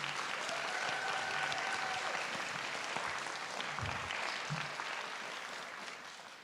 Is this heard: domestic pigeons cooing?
no